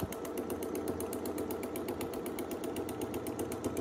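A sewing machine doing free-motion quilting over a stencil design, its needle chattering in a fast, very even mechanical rhythm, steady and close with a low motor hum underneath and no talking.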